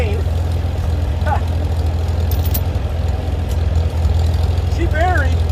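A Farmall Super C tractor engine runs steadily with a deep, continuous rumble as it is put into first gear, with faint bird chirps over the top.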